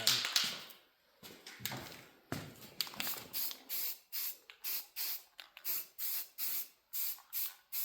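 Spray can laying a light coat of paint onto a piece of steel in a metal workshop: a few irregular bursts, then a steady run of about ten short, evenly spaced hisses, close and clear with no talk.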